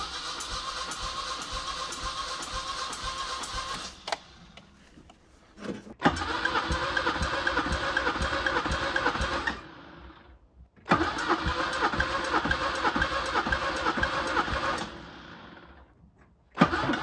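A wrecked four-cylinder car engine cranks over in neutral, its starter churning in long, loud, steady bursts separated by short pauses, close up with no talk.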